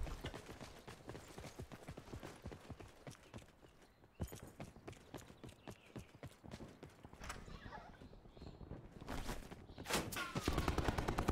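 Rapid gunfire in Call of Duty: Black Ops 4, dense bursts of sharp shots and clattering mechanical clicks, some near and loud, with voices talking over parts of it.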